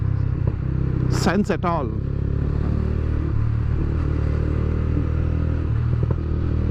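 Motorcycles and cars riding past on a road, heard from a moving bike: a steady engine rumble and wind noise underneath, with a sharp horn-like blare early on, while someone talks over it.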